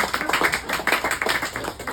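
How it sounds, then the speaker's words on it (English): Small group applauding a child named Mason on a chocolate farm tour, a brief burst of close, uneven hand claps with no talk over it. "give me a round of applause for Mason"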